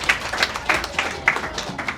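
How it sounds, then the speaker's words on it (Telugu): A small studio audience at a guess-the-job game show claps in several short, uneven bursts. The claps are close and distinct rather than one sustained roar. "చప్పట్లో"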